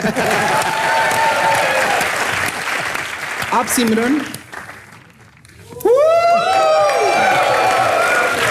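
Applause and cheering rise from the studio audience of a Hindi comedy show, clapping under a host's voice before dipping briefly, then swelling again with music-like tones and whoops.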